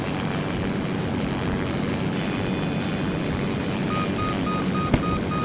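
Propeller airplane engine in the flight game SimplePlanes, a loud, steady droning roar with a faint whine layered on top, continuous and unbroken throughout.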